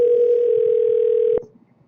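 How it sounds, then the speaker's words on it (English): An outgoing phone call gives a steady, loud ringback tone that holds for over a second and then cuts off abruptly, leaving faint background noise. "So right now my phone is ringing."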